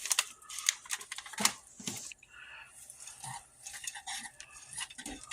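Thanksgiving stuffing is mixed in a pot with rapid, irregular scraping, clinking and thudding from a utensil working through the mixture, close and busy, with no voices.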